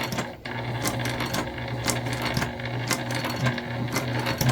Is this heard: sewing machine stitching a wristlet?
yes